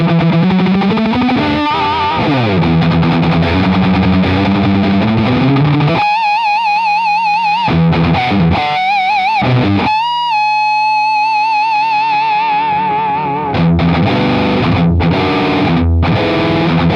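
High-gain distorted electric guitar through a BIAS MINI amp set to five tube stages, playing saturated riffs, sustained wailing bends with vibrato and short chugging bursts separated by brief gaps, loud and close.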